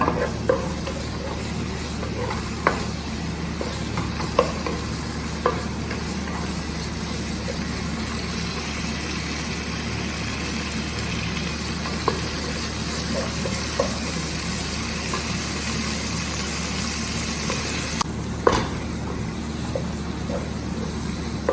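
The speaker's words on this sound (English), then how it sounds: "Saute, let the tomato become naram." Tomatoes sautéing in a pan make a constant dense sizzle with occasional faint clicks, moderately loud and steady throughout, with no talking.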